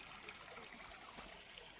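Water from a pipe runs onto leafy and fruiting vegetable plants in a farm plot, a steady, faint, hissing trickle and splash held at an even level throughout.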